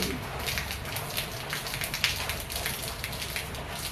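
Rain falls steadily outdoors among trees in cool weather, an even hiss of drops on surfaces with small scattered patters, moderately close and continuous.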